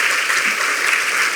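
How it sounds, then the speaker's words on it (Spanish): Loud, dense applause from a conference audience welcoming a speaker at a sustainability week talk, a continuous roar of clapping close up, with no voices over it. "recibimos con un fuerte aplauso al señor"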